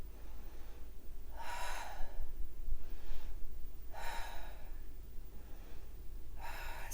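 A person doing a fitball exercise exhales in three distinct, forceful breaths at a steady pace, close to the mic, with a quiet room hum between breaths.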